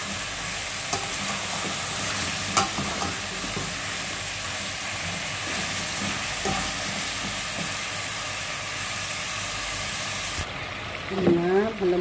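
Pumpkin squash simmering in coconut milk for a Filipino vegetable stew, a continuous bubbling hiss with occasional soft clicks of utensils throughout, ending with a brief shift and a few stirring sounds.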